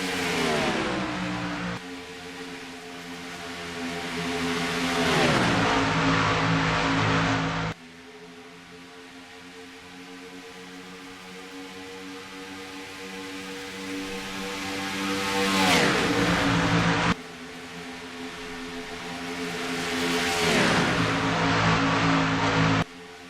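Stock race cars in an iRacing sim race at Atlanta roar past in loud waves, engines rising and falling with Doppler sweeps as several cars pass close by in succession.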